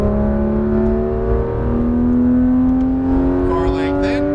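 A Porsche GT3 991 RS accelerating at full throttle on a race track, its engine note climbing steadily and loud from inside the car, with a driving coach talking over it.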